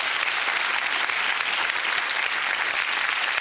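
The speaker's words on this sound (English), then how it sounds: "Round of applause for Katie." Studio audience applause on a comedy game show, a steady, full wash of clapping from a sizeable crowd, even and sustained throughout with no speech on top.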